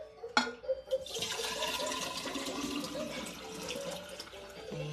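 Fresh water gushing and splashing steadily after a sharp initial clunk, loud and close, continuous for several seconds.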